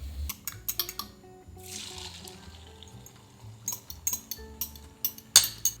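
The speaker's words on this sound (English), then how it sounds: "Whisking it adds air into the eggs, which makes them fluffy" Eggs are whisked in a bowl, with quick, close bursts of clinking and wet sloshing that stop and start. No one speaks.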